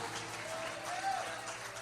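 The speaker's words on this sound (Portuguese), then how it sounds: "Será que eu posso ouvir um aplauso para o meu Deus?" A church congregation claps together in a dense, continuous burst of applause, filling the room evenly for a couple of seconds.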